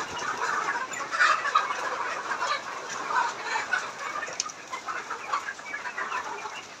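A large flock of 100-day-old layer pullets on a poultry farm fills the space with continuous overlapping clucks and chatter, a busy steady chorus with no voices.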